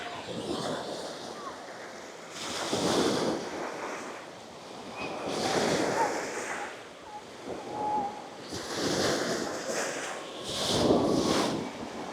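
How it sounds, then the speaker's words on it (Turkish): Choppy sea waves breaking on a beach at Çeşme after rain, surges swelling and fading every few seconds with wind buffeting the microphone. "Bugün biraz dalgalı."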